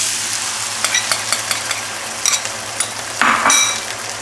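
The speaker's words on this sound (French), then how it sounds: "continuer la cuisson en créant la sauce, hein, donc avec la pâte de fèves fermentée du Sichuan et le reste des aromates" Sichuan beef stir-fry with fermented bean paste sauce and aromatics sizzles in a pan, with a utensil scraping and stirring in repeated strokes and a louder burst of frying near the end.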